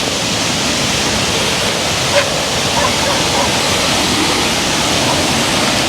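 A river rushes steadily, a dense broadband wash of flowing water that stays loud and unbroken throughout with no clear voices.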